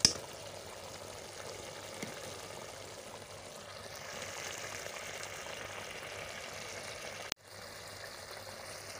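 Turmeric and red chilli masala sizzle in a pan of pumpkin curry, a steady soft frying hiss with faint bubbling that runs evenly before a brief clatter near the end.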